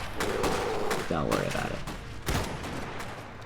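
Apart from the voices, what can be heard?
shotgun gunfire from infantry in Iron Harvest video game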